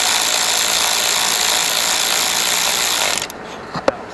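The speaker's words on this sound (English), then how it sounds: "now I'll get my mini air ratchet in here and tighten the studs up" Mini air ratchet tightening studs during an alternator replacement on a 2008 Mercury Mariner 3.0L: a continuous close pneumatic whirring buzz for about three seconds that cuts off, followed by a couple of faint clicks.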